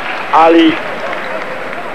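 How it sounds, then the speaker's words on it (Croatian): Roughly 150 Yugoslavia supporters grouped together in an arena cheer and clap during the 1990 basketball final against the USSR in Argentina, a steady crowd roar beneath a commentator's voice. "Čujete naše navijače koji su grupisani tamo,"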